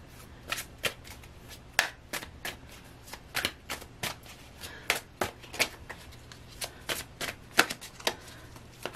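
Tarot cards being shuffled by hand, a steady run of crisp flicks and riffles at close range in a quiet room, with no talking.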